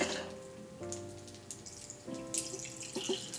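Lemon juice is poured into a cocktail mixing tin or glass, a close trickling, splashing liquid flow with small drips near the end.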